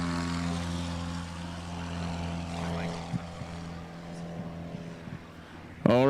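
Propeller-driven FX3 stunt plane flying at an aerobatic league contest, a steady droning engine hum with a sharp louder burst near the end, and a commentator talking over it.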